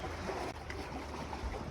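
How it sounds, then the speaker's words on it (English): Ocean waves washing up onto a sandy beach, a steady broadband rush with soft swells, heard alone without any voices. "I listened closely to the waves washing ashore"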